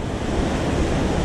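Ocean waves wash up on a beach in a steady, loud, close roar of surf and wind, with no break through the brief moment.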